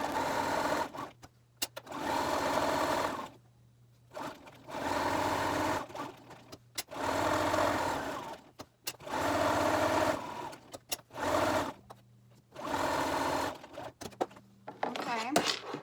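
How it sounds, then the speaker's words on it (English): A sewing machine stitches face mask fabric with quarter-inch seams in repeated runs of a few seconds of steady, close motor whirring, broken by short pauses and clicks. A voice can be heard speaking faintly. "we are going to sew all the way around"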